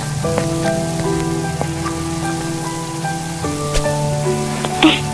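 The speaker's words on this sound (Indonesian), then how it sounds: "Kenapa sekarang hujan deras seperti ini?" Steady heavy rain pours continuously in the video game Sakura School Simulator, with a sustained musical tone running underneath throughout.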